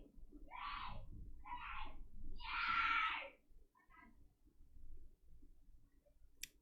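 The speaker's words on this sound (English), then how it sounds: "could the screaming children outside the shop please walk on by?" Children screaming outside a laptop repair shop: three shrill, drawn-out cries in quick succession, heard through walls at moderate distance, then a quieter room hum with a faint brief chirp at the end.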